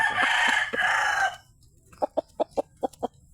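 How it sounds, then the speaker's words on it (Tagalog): A chicken gives a sustained loud call, followed by a quick series of short, sharp clucks in a steady rhythm, close by. "malalaman nila na manok ni Alonso po ito"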